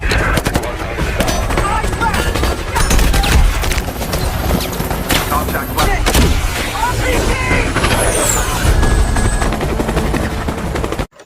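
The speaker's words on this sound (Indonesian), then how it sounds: "Sebuah tembakan rudal berhasil menghantam musuh." Loud, dense gunfire and a missile strike over a continuous helicopter roar in a film action scene, chaotic and sustained throughout.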